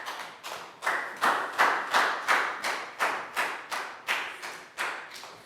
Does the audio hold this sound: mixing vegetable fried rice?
no